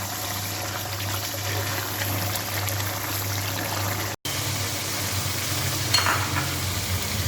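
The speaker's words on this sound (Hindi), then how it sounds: "पनीर बिल्कुल भुन चुका है हमारा, ठीक है। ये देखिए दोई के साथ इसका मसाला चिपक रहा है" Paneer masala with yogurt frying in a pan, a steady close sizzle with occasional stirring, no talk over it.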